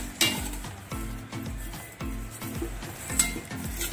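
Cumin and coriander seeds dry-roasting in a pan for homemade chatpati chaat masala while being stirred, making a rhythmic scraping and rattling about twice a second over a faint sizzle.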